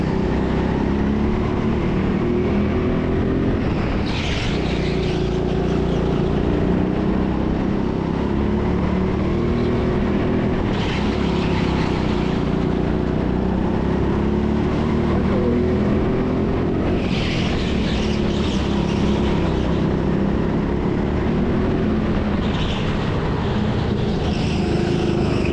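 Go-karts racing around an indoor track at TeamSport Sheffield, a continuous loud engine whine that rises and falls as karts pass close by in repeated surges, with no voices.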